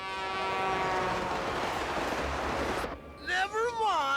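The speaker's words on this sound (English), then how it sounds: "the choo-choo's on its way!" A cartoon train approaches with a loud, rumbling roar and a sustained horn tone that cuts off sharply, followed by warbling, siren-like tones.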